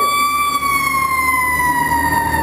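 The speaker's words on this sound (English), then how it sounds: "You've just heard some fire engines here." Several fire engine sirens wail loud and steady from passing trucks on a busy Vancouver–Burnaby street, their drawn-out tones sliding slowly downward as they move by, with heavy engine rumble underneath.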